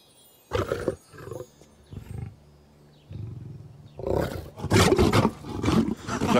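A lion roars nearby in a palace court setting, with a few short, deep grunts and growls followed by a longer, louder rolling roar and no talking.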